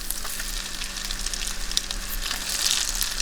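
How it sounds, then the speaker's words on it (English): Hard-boiled eggs frying in a pan, a close, steady crackle and sizzle of hot grease with occasional louder pops, no voices. "fry my hard-boiled eggs"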